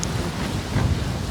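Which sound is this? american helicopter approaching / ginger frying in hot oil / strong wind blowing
strong wind blowing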